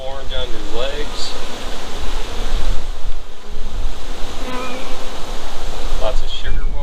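Bees hum steadily around an open beehive during a colony split, a dense, close buzzing wash mixed with wind-like rustle, with a voice talking over it at moments.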